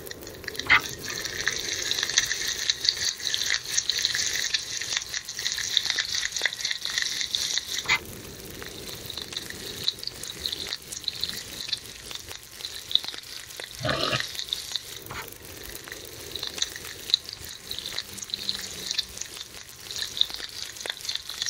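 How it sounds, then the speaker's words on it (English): Bear meat cooking in the video game The Long Dark, a continuous crackling sizzle with faint drips and liquid bubbling, steady and moderately loud throughout. "Still have a lot of bear meat to cook."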